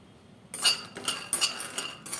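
A kadai pan is set on a stove for roasting raw green peanuts, giving a few sharp metallic clanks and clinks spread over about two seconds, close and fairly clear.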